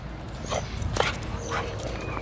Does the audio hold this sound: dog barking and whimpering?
yes